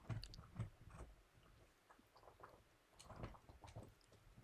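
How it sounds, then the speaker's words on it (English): A happy dog gnaws on a bone close by, giving soft irregular crunches and bites that come in scattered bursts, fairly faint and without talk over them. "what you can hear in the back is a happy dog chewing on a not so happy bone"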